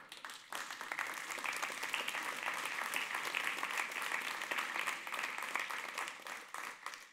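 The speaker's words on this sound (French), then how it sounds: "Je souhaiterais vraiment les applaudir." An audience applauding at a talk about teamwork, a sustained spread of many hands clapping that swells in after a brief pause and holds steadily, fairly distant and moderately quiet.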